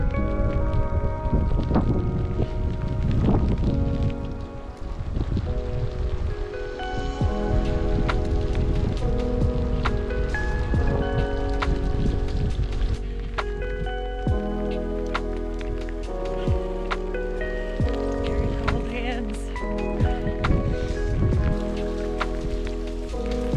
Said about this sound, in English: After a couple hours of riding in the rain, pretty used to it by now.